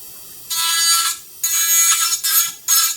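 A high-speed rotary tool grinding and trimming a complete denture, a whining buzz in four bursts of under a second each, separated by short pauses where the motor idles.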